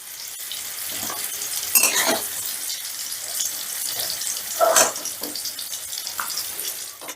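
Pumpkin stems fry in hot oil in a wok, giving a close, steady sizzle with a few louder crackling bursts and stirring scrapes. No talking.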